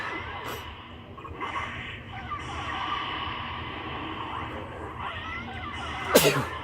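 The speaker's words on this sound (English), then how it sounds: "He sneezes today." A single sharp sneeze bursts out near the end, following a stretch of quiet room noise and faint murmuring.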